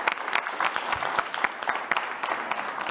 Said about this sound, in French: Oui, on va l'applaudir